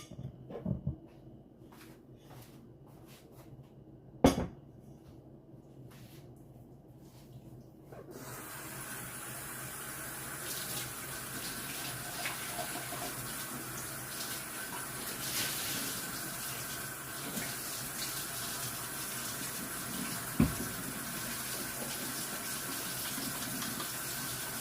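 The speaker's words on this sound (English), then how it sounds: "Let me wash my hands." Tap water runs steadily into a sink as hands are washed after mixing meatballs, a continuous rushing stream starting partway through after a few clunks, fairly close and alone without talk.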